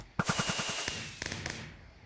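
Custom fireworks bursting in Minecraft: a rapid string of sharp pops, then scattered crackling bursts fading out, loud and close with no talking.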